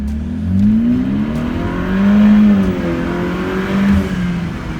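A modified BMW 328i F30 engine revs in several rising and falling pulls, its loud, droning note sweeping up and down with no talk over it.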